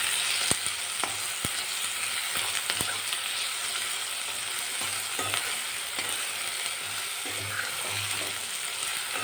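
Onion and garlic sautéing in a pan for a mixed winter vegetable masala, a steady sizzle with occasional stirring clinks and scrapes, close and continuous with no talking.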